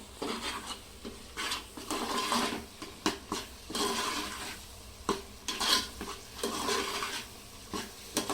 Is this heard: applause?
no